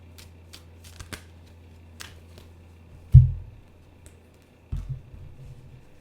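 Tarot cards being handled and shuffled, a few soft flicks followed by two short, louder riffling bursts close by in a quiet room.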